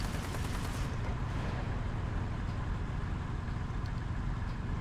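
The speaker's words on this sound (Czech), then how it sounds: "No já jsem právě taky slyšel pásy" A dense, continuous low mechanical rumble with a rattling, grinding texture holds steady throughout, like a heavy tracked vehicle rolling nearby: tank tracks in War Thunder.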